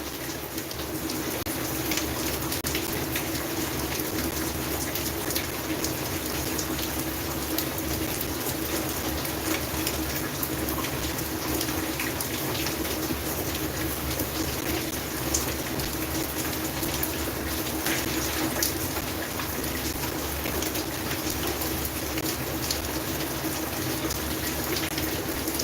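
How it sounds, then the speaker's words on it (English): Rain falls as a steady, dense hiss of drops that holds evenly loud throughout with no pauses and no voices. "I don't know if I'll be audible because of the rain"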